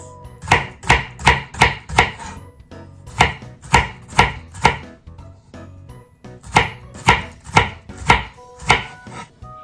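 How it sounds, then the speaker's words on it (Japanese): A kitchen knife thinly slices bitter melon (goya) about 1 mm thick on a cutting board, making quick crisp chops in rapid runs of several strokes, separated by brief pauses, close and clear. "こんな感じ、1ミリぐらいの厚さに切っていきます。"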